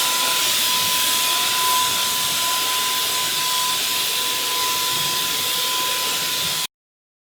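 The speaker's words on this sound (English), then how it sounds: "With the sprayer, we can quickly and easily disinfect lockers in the hallways." A disinfectant sprayer mists lockers in a school hallway, giving a steady, loud hiss that runs unbroken with a faint high whine over it, then cuts off abruptly near the end.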